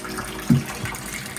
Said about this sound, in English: now I'm adding some fresh water in too